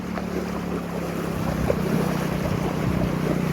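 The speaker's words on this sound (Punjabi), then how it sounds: "ਦੇਖੋ ਮਿੱਤਰੋ ਬਹੁਤ ਤੇਜ਼ ਪਾਣੀ ਦਾ ਭਾਅ" Fast-flowing floodwater rushes through a flooded village in a steady, continuous roar, with a low engine-like drone and gusts of wind buffeting the microphone.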